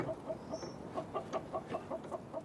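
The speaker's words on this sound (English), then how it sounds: "One of the regular morning tasks, letting out the chickens, falls to Chloe." Hens and a cockerel on a small farm make soft, repeated clucks in an irregular rhythm, close and moderately loud over a quiet outdoor background.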